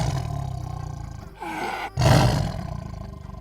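A deep, rumbling hound-like creature growl designed from tiger and lion roars builds from a low breathy inhale into a loud, close roar that slowly fades out.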